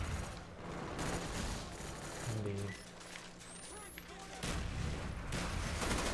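Mortar strikes boom through a Call of Duty Black Ops match, heavy blasts and gunfire rumbling in bursts with a lull in the middle, while a player talks over the game audio.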